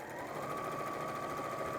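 Sewing machine stitching two fabric strips together along a raw edge, a steady even mechanical hum with a fast regular stitching rhythm, continuous and moderately close throughout.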